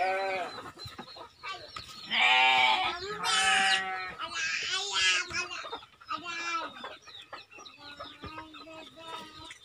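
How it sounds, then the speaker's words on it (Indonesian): Chickens cluck and crow close by, goats bleat in bursts among them, and ducks and Muscovy ducks share the pen in a busy livestock farm chorus with faint talk in between. "Ada ayam, ada entok, ada bebek. Ada embek."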